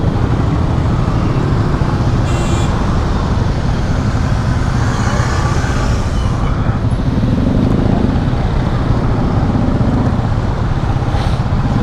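Road noise from a traffic jam surrounds a motorcycle rider, with engines idling and revving, vehicles passing close by and a loud, steady roar throughout.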